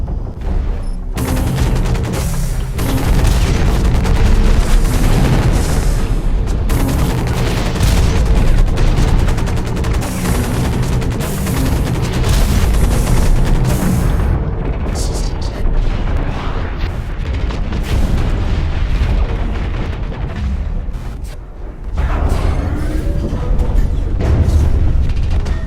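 Sustained heavy gunfire and booming explosions from a turret in the mech shooter game Hawken, loud and dense throughout with a brief lull near the end before the barrage resumes.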